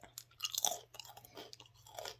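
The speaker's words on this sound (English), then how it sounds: "Do y'all hear that crunch?" Homemade dehydrated apple chips sprinkled with cinnamon are chewed close to the mic, a string of sharp crisp crunches at an uneven rhythm.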